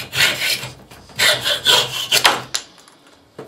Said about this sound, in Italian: Vedete che bastano pochi colpi su uno spazio così per tagliare.